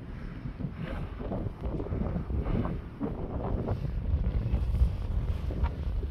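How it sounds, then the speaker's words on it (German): Strong wind gusts across the microphone at a beach resort in Marsa Alam, a continuous loud roaring rush with no break throughout, heard alone. "Und hier pfeift natürlich der Wind wieder ohne Ende."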